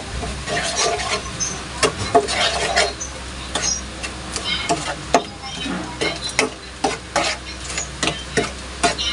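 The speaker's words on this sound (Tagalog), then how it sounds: "Yung ating sugar. Yan, haluin po natin siya." Sugar is stirred into apple pie filling in a pot on an unlit stove, with a steady scraping swish and repeated sharp clinks of a utensil against the pot. The sound is close and runs throughout, with no talk over it.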